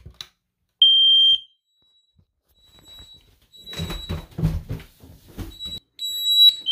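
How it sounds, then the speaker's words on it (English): The upstairs smoke detector in a home alarm system sounds a short piercing buzzer tone during a test. Later come rustling and handling noises and a few more beeps. "press and hold until you hear the buzzer"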